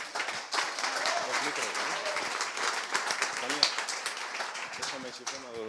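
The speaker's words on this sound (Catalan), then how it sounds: "aplaudiment per ells" An audience at an arts-and-science talk applauds the Playmodes collective with steady, moderate clapping, and voices murmur and cheer through it.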